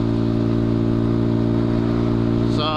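A motorcycle engine runs close by with a continuous, throaty, mid-pitched rumble that stays even for a few seconds before briefly shifting near the end.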